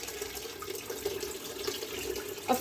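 Water runs from a kitchen tap while dumpling dough is being made, a quiet, continuous trickle with faint splashes and a small clink near the end.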